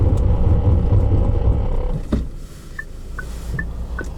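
SsangYong Rexton Sports 2018 pickup during a braking test: loud engine and road rumble that cuts off sharply midway, followed by quieter cabin noise with a few short, faint beeps.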